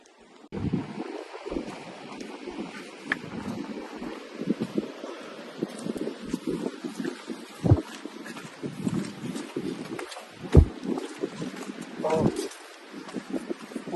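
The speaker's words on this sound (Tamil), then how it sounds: "நல்லா காத்து வருது." Wind blows steadily at Coral Beach in Kurmadera, buffeting the microphone with continuous rough gusts while a person talks throughout.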